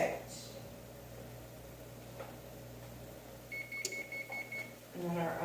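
A kitchen oven beeps to signal it has finished preheating, a run of short, evenly spaced electronic tones at moderate volume against a low appliance hum, with a person talking nearby.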